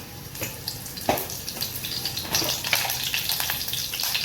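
Curry leaves hit hot oil in a pan while amti is being tempered, giving a close, crackling sizzle with sharp pops and a steady spitting hiss.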